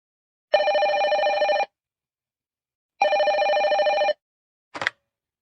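A telephone rings in two loud, steady bursts separated by a pause of silence, then a brief click follows at the end.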